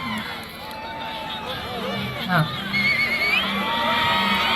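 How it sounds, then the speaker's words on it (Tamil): Crowd at a jallikattu-style bull-taming event in Thanjavur district, Tamil Nadu, with continuous cheering, whooping and shouting from many people, rising and falling in a lively mix with voices throughout. "பார்வையாளரே சீட்டு அடிங்க, கைத்தட்டுங்கள், வீரர்களை உற்சாகப்படுத்துங்கள், உற்சாகப்படுத்துங்கள்"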